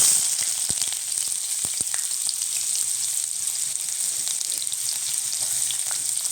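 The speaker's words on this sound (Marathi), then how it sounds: "कांदा घालते" Finely chopped onion sizzles steadily in hot oil in a kadhai for a gavar shenga bhaji, a continuous loud frying hiss with occasional stirring clicks and no voices.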